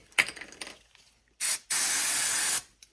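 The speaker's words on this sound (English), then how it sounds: "spray it with some brake clean" An aerosol brake cleaner gives a few short bursts, then one long, loud, steady hiss of nearly a second, close by, during a cam carrier reseal on a VW EA888 engine.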